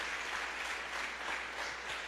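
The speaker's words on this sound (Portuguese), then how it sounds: "Bate palmas para Jesus." A church congregation applauds in praise of Jesus, a dense steady roar of many hands clapping together throughout.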